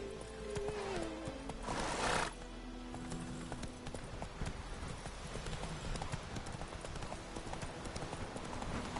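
Roach, a horse in The Witcher 3 video game, gallops with rhythmic, steady hoofbeats and lets out a loud whinny early on, while game ambience plays underneath.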